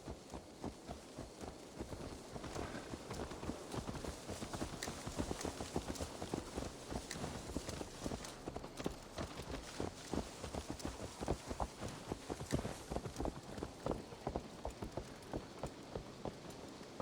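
Continuous rapid clip-clopping of horse hooves at a steady trot in the video game Assassin's Creed Valhalla, with a faint rain-like hiss in the background.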